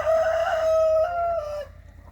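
A rooster in a chicken coop on a muddy homestead gives one long, loud, close crow that trails off into quiet.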